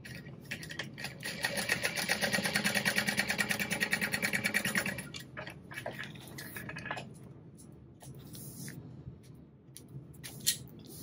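A sewing machine stitches the bottom seam of a fabric backpack, running in a steady rapid whir for about three seconds, then stopping and restarting in shorter, quieter bursts with handling noises in between.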